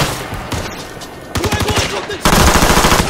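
Rapid bursts of assault rifle fire in the Ghost Recon Future Soldier video game on Xbox 360, loud and close, growing denser toward the end with shouted voices mixed in.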